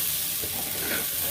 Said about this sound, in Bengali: রান্না হচ্ছে খিচুড়ি